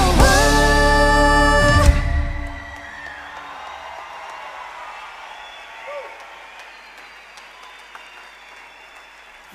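A concert crowd applauding at an outdoor folk show, first under the loud final chord of the band, then as a thinner stretch of scattered clapping and a few whoops.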